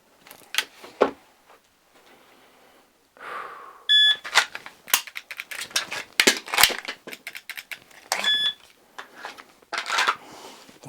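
Sharp electronic beeps from a shooting par timer during a dry fire pistol reload drill, two short tones amid clicks, handling noises and faint movement.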